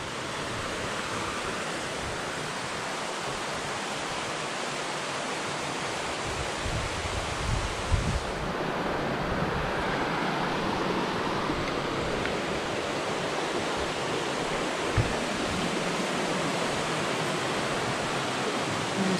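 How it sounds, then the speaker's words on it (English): Water rushing down a rocky mountain stream in the Catskill Mountains, a loud, continuous broadband roar of flowing water close by, steady for the whole stretch with no voices. "Lots of water running."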